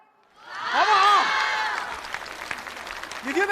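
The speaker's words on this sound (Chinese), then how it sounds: "你听听这掌声" An audience at a Deyun She crosstalk comedy show bursts into applause. The clapping swells quickly with scattered cheers and stays sustained and dense, while a performer's voice calls out over it at the start and end.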